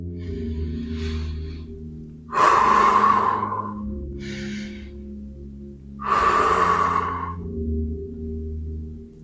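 Slow diaphragmatic breathing is demonstrated with two deep, loud inhales and exhales in an even, pendulum-like rhythm, heard close over a low steady background hum.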